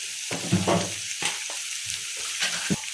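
Dried pork fries with onion, garlic and ginger in a pan, giving a constant sizzling hiss broken by repeated scraping stir strokes and clanks at an uneven pace. No one speaks.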